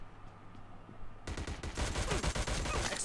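Gunfire in the BGMI gun game mode starts abruptly as rapid, loud automatic bursts after a quieter opening and continues to the end.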